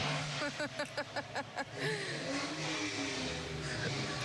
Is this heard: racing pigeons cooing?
no